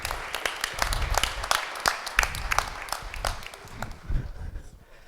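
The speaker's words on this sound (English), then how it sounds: "A big round of applause," A small meetup crowd gives a round of applause, a burst of scattered, uneven hand claps close by that thins out and fades toward the end.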